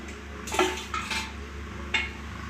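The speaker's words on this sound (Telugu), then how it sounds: "ఇప్పుడు బాండి పెట్టుకొని" A metal kadai pan is set down on the stove for cooking stuffed brinjal fry, giving three sharp, close metallic clanks and knocks across a couple of seconds, with no speech.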